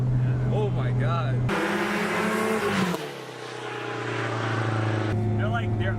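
A 2004 Subaru WRX STI with upgraded gearbox synchros roars and whines loudly under acceleration on a track, with someone talking before and after the engine surge.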